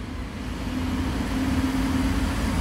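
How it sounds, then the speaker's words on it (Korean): A car passing on a road gives a steady, muffled drone with a low hum that holds at a constant level throughout. "차 소리다, 차 소리."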